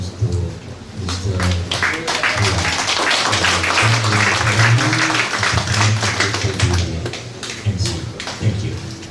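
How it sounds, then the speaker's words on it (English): Applause at a public lecture for a Palestine solidarity week: a room of listeners claps steadily for several seconds, fairly close, with voices and murmured talk mixed in beneath the claps. "So please give a big applause to Mr."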